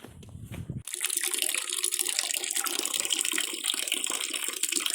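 Water rushing steadily through a pipe feeding a greenhouse, a sudden onset after a brief knock, then a constant close hiss and splash with no voices.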